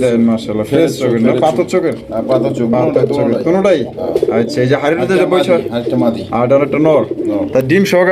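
Fancy pigeons coo at a pigeon farm, a steady low warbling chorus under nearly continuous talk from people nearby.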